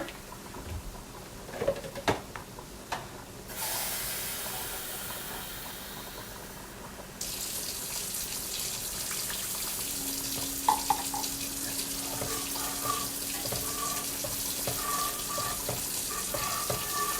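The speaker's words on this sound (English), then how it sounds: "And add some water." Water poured from a tap into a cooking pot for smothered chicken wings, a steady running stream with clatter and bumps, then a fuller rushing flow that continues unbroken.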